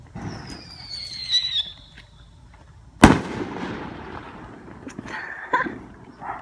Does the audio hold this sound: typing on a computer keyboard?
no